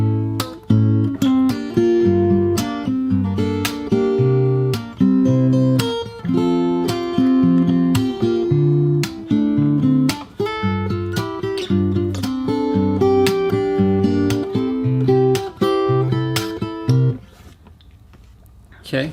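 Fingerstyle acoustic guitar plays the second part of the second verse of a song, with picked chords, bass lines and sharp percussive slaps in a busy, steady groove. It is close and fairly loud, ending on a ringing chord.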